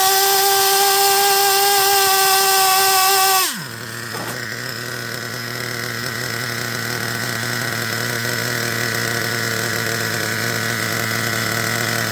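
An engine shifts from a high, rich-running tone, drops sharply, then settles into a steady, loud idle that continues to the end.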